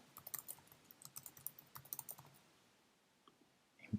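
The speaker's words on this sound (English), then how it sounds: "type a password" Quick bursts of keystrokes on a computer keyboard as a password is entered, close and fairly quiet, a run of rapid clicks that thins out before a final tap.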